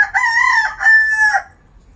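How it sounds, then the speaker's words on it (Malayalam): A native country rooster crows once, loud and close, in a clear two-part call with a sustained middle note, alone against a quiet background. "ഇത് നാടൻ കോഴിയാണ്. നല്ല പെട്ടക്കോഴിയാണ്."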